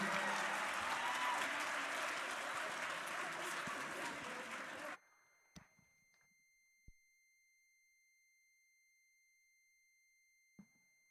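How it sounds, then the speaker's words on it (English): School Black History Month assembly audience gives a loud, sustained round of applause that stops abruptly, leaving near silence with a steady electronic tone and a few faint clicks. "I'll give our inspirational voices one more round of applause"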